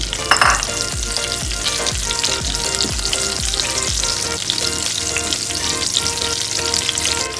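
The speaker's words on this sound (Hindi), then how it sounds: "ज़ीरा और लाल मिर्च अच्छे से फ्राई हो चुकी हैं" Cumin seeds and slit fresh red chillies frying in hot oil for dal with pumpkin, a loud dense crackling sizzle with a run of rhythmic scraping strokes early on, then continuous spitting.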